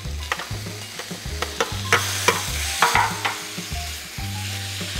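Chicken frying in a pan, a strong, continuous sizzle broken by repeated scraping and stirring strokes, close and loud, with a low hum running underneath.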